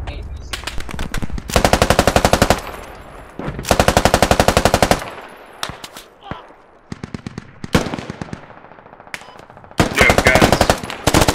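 Automatic gunfire in the tactical shooter Squad, played on the Tallil Outskirts map: long, loud rapid bursts of machine gun rounds with short single shots and pauses between them, while someone talks briefly over the shooting.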